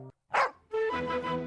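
A dog gives one sharp bark followed by a longer, tonal yowling bark, close and fairly loud, with a brief gap between them and no talking.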